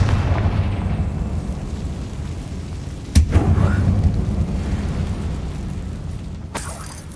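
An explosive Confringo spell goes off in Hogwarts Legacy inside an abandoned mine, a single sudden loud boom with a rumbling tail over a steady low game ambience, followed later by a sharper crack.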